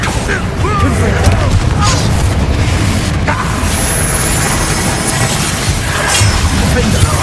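Repeated fiery spell blasts from Hogwarts Legacy, the Confringo curse, booming and crackling through dense game combat with music, layered over a continuous rumbling bed while other bursts and impacts pile on.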